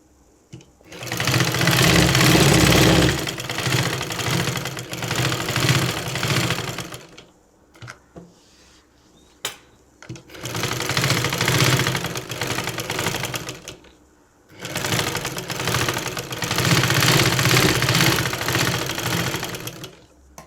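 Sewing machine stitching the neck of a churidar made with pant piece and canvas, running in three long loud bursts of rapid stitching separated by short pauses.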